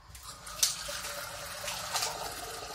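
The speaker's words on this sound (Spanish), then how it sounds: "Vamos a llenar esto de agua." Water runs from a tap into a toy water bomb that turns into an alien, a steady splashing, trickling stream with small bursts as the filling flow shifts, fairly quiet and without talk.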